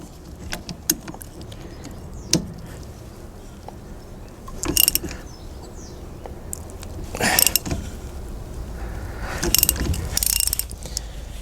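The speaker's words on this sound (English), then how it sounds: "put a socket on the end of the extracting tool and wind it that way" A hand ratchet clicks in short bursts while winding a socket on a brake piston extracting tool for a Ford Mondeo, with sharp mechanical ticks and pauses between quiet stretches.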